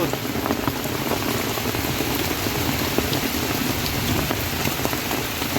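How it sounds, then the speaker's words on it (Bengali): Heavy rain from cyclone Remal pours onto a fishing boat on a river, a dense, steady roar of drops drumming close by without a break. "বাইরে প্রচণ্ড বৃষ্টি পড়ছে"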